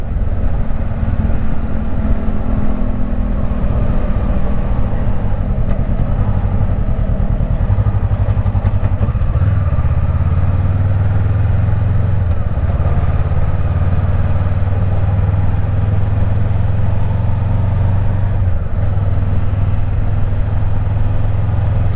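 A Honda CB500X motorcycle engine drones steadily at close range throughout, with low rumble and occasional shifts in pitch as it rides along.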